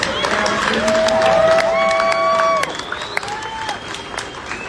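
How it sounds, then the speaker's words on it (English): Graduation audience applause and cheering at a college commencement, broad crowd clapping with whistles and shouts, loud at first then easing slightly, with voices mixed in. "Big round of applause for all of the support."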